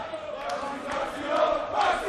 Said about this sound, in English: Crowd are playing their part.